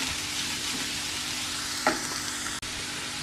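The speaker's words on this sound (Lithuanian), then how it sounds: "Kol svogūnai kepa" Onions sizzle and fry in a pan with a steady crackling hiss, close by, broken by a brief stir and a small knock partway through.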